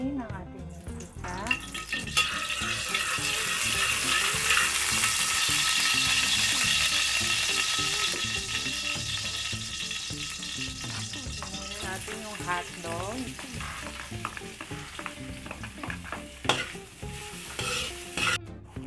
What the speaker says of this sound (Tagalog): Pag mainit ng kawali, lalagyan natin siya ng mantika.